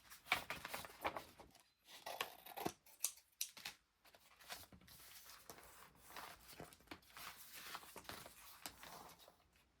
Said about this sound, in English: I'm going to take this and trim it.